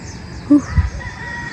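A rooster crows briefly at a distance during early-morning car camping at a campground in Mendez, Cavite, Philippines, a short rough call over a steady low background hum.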